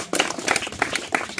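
A group of students at a values-awareness camp applauds a girl who answered a question, a brief burst of steady hand clapping that swells and holds for over a second.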